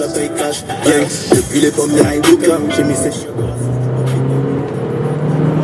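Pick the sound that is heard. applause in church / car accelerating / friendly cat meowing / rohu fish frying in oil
car accelerating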